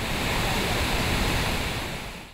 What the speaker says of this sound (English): The river started roaring past the Hodges property after a mass of water was let loose from Jindabyne Dam